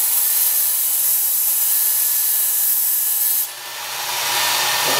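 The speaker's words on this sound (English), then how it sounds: "When I'm working on the heel of the blade, I like to touch the belt to it about here" A Work Sharp Ken Onion Edition variable-speed belt sharpener grinds the heel of a knife blade with a steady hissing abrasive whir that shifts in tone partway through, with no talking.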